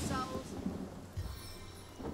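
Rain and thunder from a spell cast in the video game Divinity: Original Sin, a low rumbling roll with a hiss of rain, moderately loud and lasting about two seconds.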